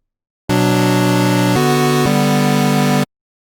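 Three sustained buzzy square-wave synthesizer lead tones play back to back, harsh and square-edged, each held steadily before switching abruptly to the next, then cutting off.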